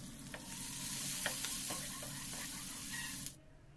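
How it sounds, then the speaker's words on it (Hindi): Chopped onion and green chillies sizzle and crackle steadily in a hot pan while being stirred, then the frying cuts off abruptly. "इसे अच्छे से भून लेंगे।"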